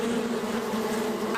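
Bees buzz in a steady, continuous drone inside a UK radio advert for the National Lottery, heard alone with no voices.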